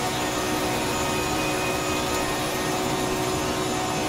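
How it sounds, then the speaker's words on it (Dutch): A 6-litre V12 engine of an Aston Martin Vantage V12 GT3 in the ACC racing game, a dense, steady high-revving roar held throughout with no talking. "Het geluid is fantastisch. Als ik het goed heb, een 6 liter V12"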